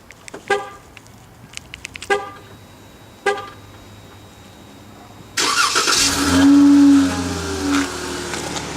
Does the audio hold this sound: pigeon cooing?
no